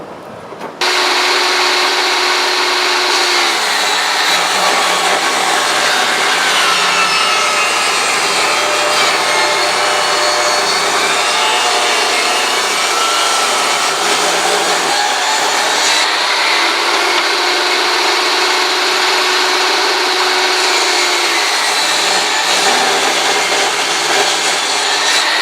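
A saw cuts through wood for a small night stand table with a steady, loud, continuous rasping whine lasting over twenty seconds, close and alone with no talking.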